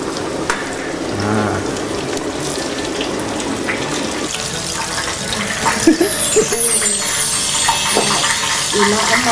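Salmon sizzles steadily in a hot pan, with running water and kitchen clatter mixed in, growing busier and brighter in the second half.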